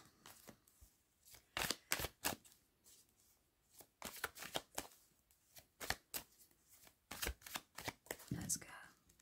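Tarot cards shuffled close by in quick riffling bursts, several clusters of sharp flutters separated by brief pauses, fairly quiet, no voices.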